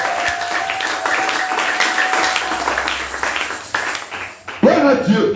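A church congregation bursts into brief clapping and cheering as a preacher speaks over the crowd, the applause swelling near the end before a loud voice cuts in.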